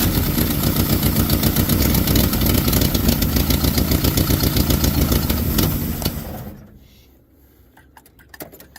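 A 1963 Chevy Nova engine runs loud and close with a rough, steady throb for about six seconds, then cuts out, leaving near silence with a few faint knocks and rustles.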